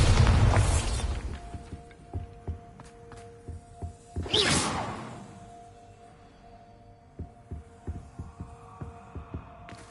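A Bombarda explosion spell going off in Hogwarts Legacy, with two heavy booming blasts and a rumbling low hum, followed by scattered lighter impacts and clanks toward the end.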